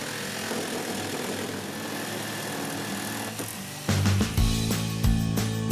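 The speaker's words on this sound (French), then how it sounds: "découpez le comptoir avec une scie sauteuse en suivant le tracé du gabarit" A jigsaw cuts through a kitchen countertop along a traced template line, a fast buzzing reciprocating drone that turns heavier and rougher about two thirds through, close and continuous.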